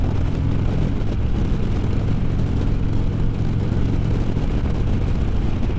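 A Harley-Davidson Road King motorcycle is ridden at a steady cruise, its engine a continuous loud low rumble mixed with broad wind roar and no clear changes in speed.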